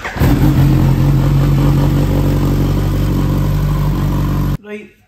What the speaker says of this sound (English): I'm going to run the bike up to temperature,